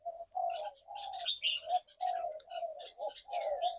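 Captive white-rumped shamas call in a run of clear, fluting whistles and chirps, repeated phrases with short gaps, fairly close and moderately loud with no talking.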